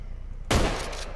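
A sudden burst of gunfire in the video game Contagion erupts after a moment of low rumble, loud and close, then trails off.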